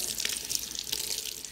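A kitchen tap runs steadily while someone washes their hands during enchilada preparation. The water makes a continuous close hiss and splash throughout, with no voices.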